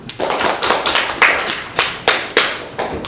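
Scattered clapping from a small class audience for students who asked questions, a handful of hands striking unevenly in a short burst, close and fairly loud.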